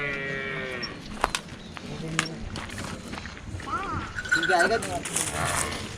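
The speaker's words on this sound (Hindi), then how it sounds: "ये सारी भैंसें" Buffaloes resting in a village field in rural Maharashtra at sunset give low, drawn-out moos, some near and some farther off, while people talk over them.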